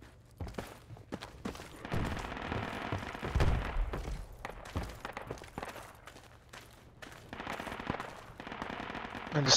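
Machine gun fire in the military shooter game Project Reality, dense rapid bursts and overlapping gunshots that continue without pause, with faint voices underneath.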